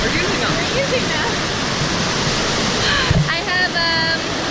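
Loud, steady roaring rush of water at Mae Sa Waterfall, a constant broadband wash filling the whole stretch, with a voice briefly audible under the noise near the end.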